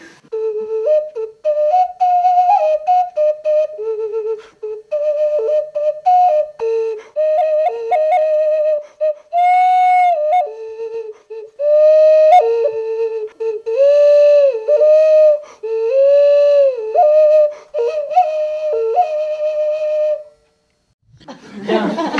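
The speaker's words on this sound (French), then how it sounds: "Et donc voici une flûte en terre cuite du Pérou." A breathy, hollow Peruvian terracotta flute shaped like a frog plays a wandering melody of short held notes and slides, solo and close, with brief pauses between phrases.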